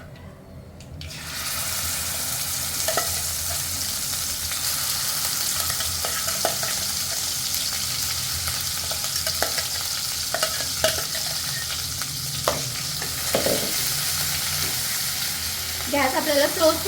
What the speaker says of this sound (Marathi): छान आपलं वाटण तेलामध्ये फ्राय करून घ्यायचं आहे.